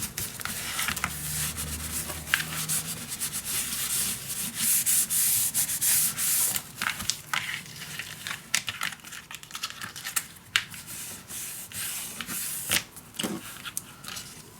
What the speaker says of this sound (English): Burnish it down wherever you want it.